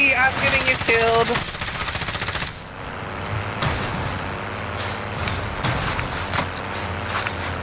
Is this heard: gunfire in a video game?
yes